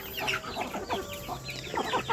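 Several farm chickens cluck nearby in quick, overlapping bursts, a busy, continuous chatter of short calls with no talking.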